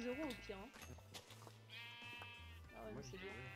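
Sheep in the Minecraft video game bleat several times in quick wavering calls while players talk over them.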